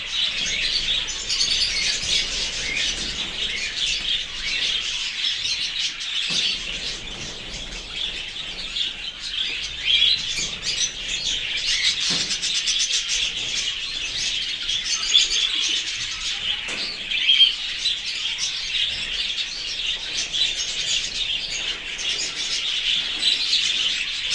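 A flock of birds, pigeons among them, being fed grain: dense continuous chirping and cooing with bursts of wing flapping, busy and close throughout, no talking.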